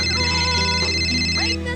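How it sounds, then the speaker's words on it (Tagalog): A cellphone ringtone plays loudly and close, a steady electronic melody of bright repeating tones that cuts off near the end. "Nagring ang cellphone ko."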